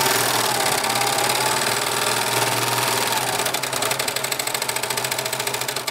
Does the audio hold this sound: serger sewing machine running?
yes